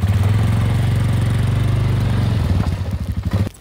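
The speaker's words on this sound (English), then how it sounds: "Oh, I better move my quad." A quad ATV engine runs steadily at close range, then revs and shifts as the machine is driven and moved near a brush fire before cutting off.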